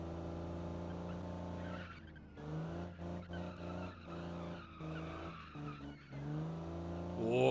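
Car tires skidding and squealing through drifts in a vintage car-building video game, a sustained wavering screech over a steady engine drone that rises and falls through the turns.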